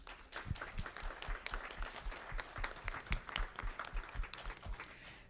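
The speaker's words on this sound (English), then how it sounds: "Let's give motherhood a round of applause." A church congregation gives a round of applause for mothers on Mother's Day, a faint, somewhat distant patter of many clapping hands with some individual claps standing out, steady throughout.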